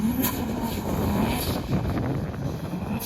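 A drift car circles a tight cone track, its engine droning steadily with wind buffeting the microphone; the pitch wavers as the driver works the throttle through close turns.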